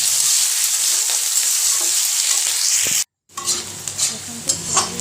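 Chopped onions fry in hot oil in a pan with a loud, steady sizzle, broken by a brief silence and then stirring scrapes and clinks against the pan.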